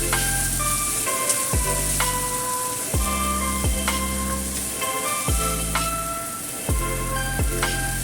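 Noodles and vegetables stir-fried for chicken chow mein, a steady loud sizzle and fry with repeated clattering strokes of chopsticks and a wooden turner tossing the wok, close up and without talk.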